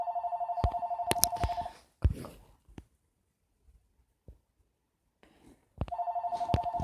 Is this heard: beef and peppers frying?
no